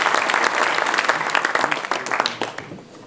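An audience at an honorary citizenship ceremony for a professor and his wife in Hasborn breaks into loud, dense applause, sustained throughout with slight swells and a few sharper claps.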